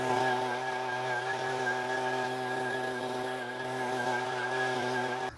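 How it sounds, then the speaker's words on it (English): Husqvarna 125B gas leaf blower held at full throttle on a lawn, a steady, loud, droning engine whine with a constant pitch and no pauses. "I just got done blowing this whole strip of lawn here. It was on full blast the whole time."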